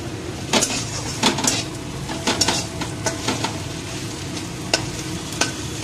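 Potatoes and capsicum fry in a pan with a steady sizzle, punctuated by scraping and clinking as a utensil stirs them against the pan.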